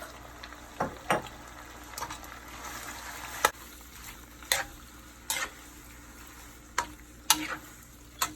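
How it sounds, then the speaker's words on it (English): Pasta sauce with garlic being stirred in a pan, giving a series of scraping, sloshing stirs with a few sharper clinks against a soft sizzle, close and moderately quiet. "So I'm gonna add in my pasta sauce."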